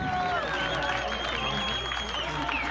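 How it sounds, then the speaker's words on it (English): Outdoor crowd at a Santorini sunset claps and cheers, scattered applause under whistles and raised voices. "So big round of applause for the sunset."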